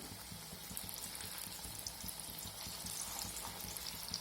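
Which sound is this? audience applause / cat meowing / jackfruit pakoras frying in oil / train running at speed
jackfruit pakoras frying in oil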